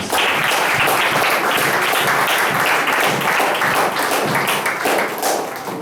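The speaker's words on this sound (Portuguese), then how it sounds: "Salve de palmas, Senhor Jesus" A congregation applauding during a service at an Assembly of God church in Brazil, a loud, sustained wash of many hands clapping that carries on evenly for several seconds and tapers slightly at the end.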